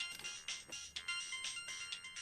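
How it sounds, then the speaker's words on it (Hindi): A mobile phone ringtone rings in a room, a bright repeating electronic tone pulsing steadily and fairly close, with no voices over it. "किसका फोन है? तुम्हारा फोन उठाओ ना यार"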